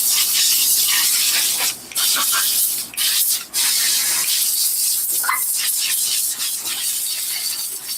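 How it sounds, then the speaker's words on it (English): Continuous loud hissing of a steam cleaner spraying suede shoes, with brief pauses around the middle and slight scrubbing variations, close to the microphone. "Now we're just gonna steam everything off."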